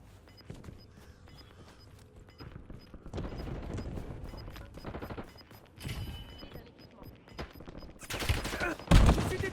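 Gunfire in the video game Warzone: scattered bursts of automatic fire and single shots spread through the clip, building to loud, dense volleys near the end, with no talk.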